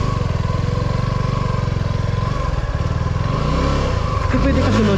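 A motorcycle engine thrums loud and close in a steady pulsing idle that rises into a rev near the end, with voices talking over it.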